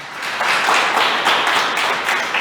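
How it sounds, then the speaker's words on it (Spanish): A church congregation applauding, many hands clapping together in a dense, steady patter of moderate loudness, with no voices over it. "Un aplauso a Jesús."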